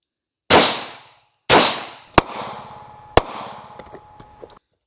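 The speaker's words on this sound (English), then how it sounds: "gonna put 5 rounds in the PASGT helmet" Five pistol rounds fired at close range into a U.S. M-84 PASGT Kevlar helmet at 7 yards, heard as two loud booming shots followed by three sharper cracks, each with a short ringing tail.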